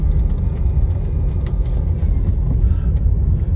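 A 2015 Range Rover Evoque with a manual gearbox is heard from inside as it drives along a road, with a steady, loud engine and road rumble and a few faint interior clicks.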